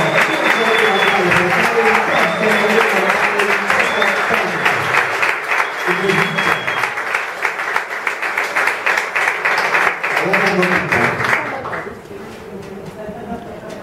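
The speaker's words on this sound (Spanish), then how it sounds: "recibir con un fuertísimo aplauso" Loud audience applause for a guest actor on a variety show stage, a dense, sustained roar of clapping for about twelve seconds with music and voices underneath, then fading to a thinner tail.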